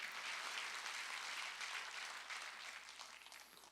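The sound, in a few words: church congregation clapping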